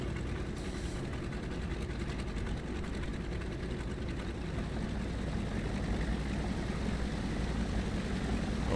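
Steady drone of the three propeller engines of a Junkers Ju 52 in the flight simulator MSFS 2020, a continuous low rumbling throb that holds evenly throughout with no voices.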